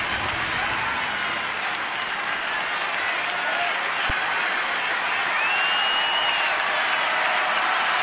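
A crowd of nearly 35,000 at a Detroit at Washington baseball game roars and cheers in the eighth inning, a steady distant wall of noise with a few whistles and shouts rising above it.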